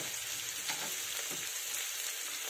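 Chopped onion, potato and carrot fry together in a pan for a vegetable egg bhurji, giving a steady, close hiss of sizzling oil with faint crackles and no pauses.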